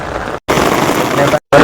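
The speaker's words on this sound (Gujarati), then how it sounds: "વરસાદ એકદમ ફાસ્ટ પડી રહ્યો છે ભાઈ." Heavy monsoon rain pours down in Gujarat as a dense, steady hiss that fills the air, loud and close, cut by two brief silent gaps.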